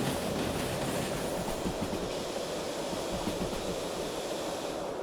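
A British 0-6-0 steam locomotive runs at speed in the train game Derail Valley, giving a dense, continuous rumble and hiss with rapid rhythmic chuffing throughout, steady and loud.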